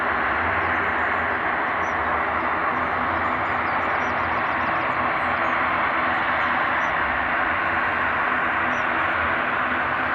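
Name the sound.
freighter aircraft at Edinburgh airport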